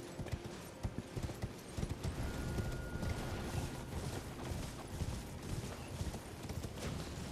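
Hooves clip-clop in a steady trotting rhythm over a low rumble of ambient noise, fairly close and moderately loud, a horse in the video game Elden Ring: Shadow of the Erdtree.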